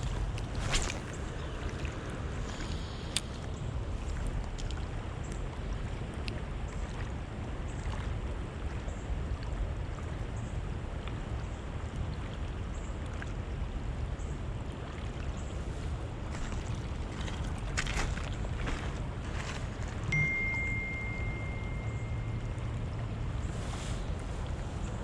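Fast-flowing river water rushing steadily in a snowy setting, a continuous broadband roar with faint wind noise and occasional small knocks.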